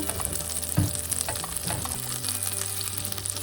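Butter cooks in a pan as the base for a white bechamel sauce, a steady close sizzle with soft crackles and a light stirring scrape, with no talk.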